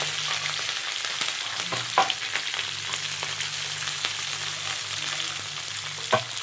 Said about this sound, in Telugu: కరివేపాకు చిటపట్లు ఆడేటప్పుడు ఆనియన్స్ వేసిద్దాం.